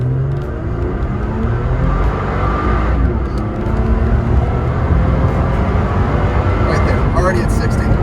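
A supercharged 2017 third-generation Toyota Tacoma pulls hard from a standstill up to 70 mph, its engine note swelling steadily and filling the cabin with a sustained drone.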